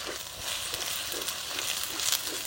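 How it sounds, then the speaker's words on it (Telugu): Onions, ginger garlic paste and green chillies fry in a pan for Hyderabadi mutton marag, giving a steady, close sizzle that runs without a break and with no talking. "అల్లం వెల్లుల్లి పేస్ట్ పచ్చి వాసన పోయే వరకు వేయించుకుందాం."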